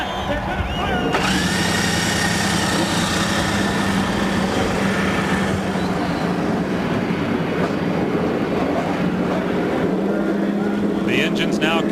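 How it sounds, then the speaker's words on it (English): IndyCar engines fire up on the grid at Pikes Peak at the 1999 Radisson 200. The field settles into a loud, steady droning idle, with a voice talking over it throughout. "The engine's now coming to life."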